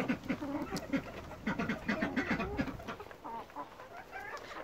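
Chickens and guinea fowl on a smallholding cluck and chatter softly at close range, a quiet flurry of short repeated calls with no talking.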